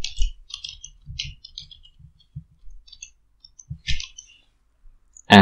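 Typing on a computer keyboard: sparse clusters of crisp key clicks in irregular bursts with short pauses, close and clear, no talking.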